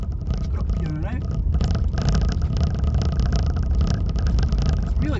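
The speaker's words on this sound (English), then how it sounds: "All you can hear is like the road noise." Steady low road noise and tire rumble inside a moving Nissan Leaf electric car, with a person talking over it throughout the drive.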